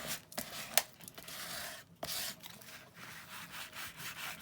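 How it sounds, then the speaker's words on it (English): A paper fold is burnished for a junk journal, making short, soft, close rubbing strokes in an uneven series with brief pauses, alone without talk. "And then just burnish that into that fold like that."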